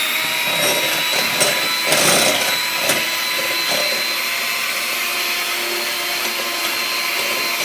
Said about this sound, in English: lower your volume if you don't want to hear with the mixer